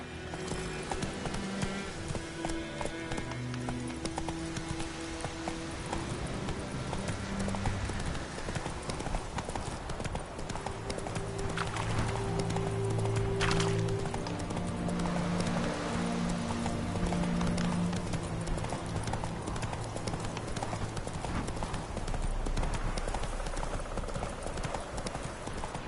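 A horse galloping in The Witcher 3 game, with rapid rhythmic hoofbeats continuing throughout at moderate volume, joined by occasional voices and game music.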